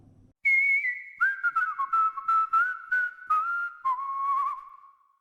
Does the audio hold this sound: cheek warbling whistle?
yes